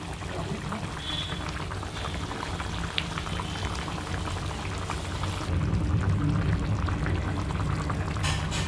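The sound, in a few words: fish curry gravy boiling in a pan, Bengali white sauce fish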